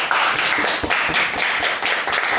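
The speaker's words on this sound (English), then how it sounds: "Give yourselves a round of applause." Clapping from a Toastmasters group riding as passengers, a quick burst of hands striking in close, uneven rhythm for a couple of seconds.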